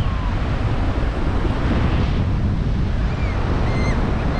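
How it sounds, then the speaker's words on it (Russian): Stormy Baltic Sea at the beach in Jurmala, waves surging in a dense, unbroken roar of surf mixed with gusting wind noise on the microphone, loud and close throughout. "Море бурлит, но очень красиво"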